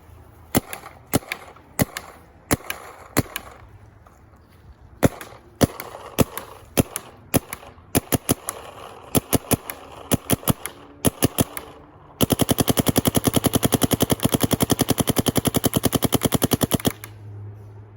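A Dye M3s paintball marker fires a series of sharp snapping shots, spaced irregularly at first, then a rapid continuous burst for several seconds before stopping.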